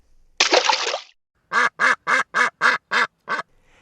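A burst of splashing followed by seven evenly spaced, loud duck quacks in a steady rhythm, close and clear with no talk.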